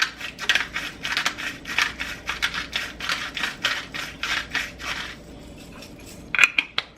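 Fresh black pepper is ground by hand over a pot of summer vegetable soup with turkey meatballs, a close run of rapid, rhythmic crunching clicks from the grinder.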